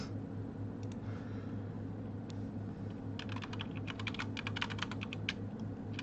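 Bursts of quick clicking keystrokes on a computer keyboard, sparse at first and then a rapid run of typing, heard close over a low steady room hum.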